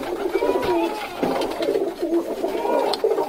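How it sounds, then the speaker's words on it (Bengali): Pigeon chicks cooing close by in a loft, soft repeated low coos running continuously with a few brief pauses. "দেখতে পাচ্ছেন এই যে কবুতরের বাচ্চাটা"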